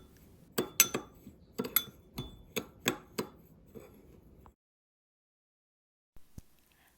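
Cinnamon powder and brown sugar filling mixed in a bowl, heard as a run of about nine sharp, irregular clinks and taps of a utensil against the bowl, followed by silence and one faint tap at the end.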